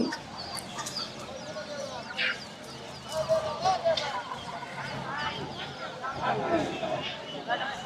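Chickens of foreign breeds cluck and chatter close by at a market in Bogura, Bangladesh, with clustered squawks over a busy background; voices talk intermittently underneath.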